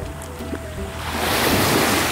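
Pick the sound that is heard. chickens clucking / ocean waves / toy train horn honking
ocean waves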